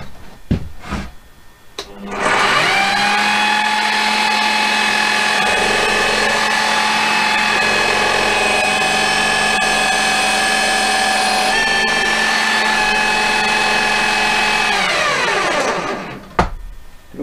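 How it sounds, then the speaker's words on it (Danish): A drill press with a 12 mm bit spins up and drills steadily into wood for about thirteen seconds with a sustained whine, then winds down. It is loud and close, with a few knocks before and after and no talking. "Og det vil jeg gå hen i søjleboremaskinen og gøre med et 12 mm bore."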